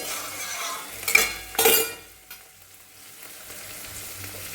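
Soft sizzle of spices frying in a pan for a fish mustard curry, broken by two loud bursts of stirring and scraping, then a quieter hiss; no talking.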